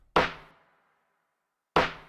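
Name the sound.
two layered lo-fi snare drum samples playing together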